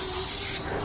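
Wheel cleaner sprays onto a car wheel in one continuous, close, loud hissing burst that eases slightly near the end.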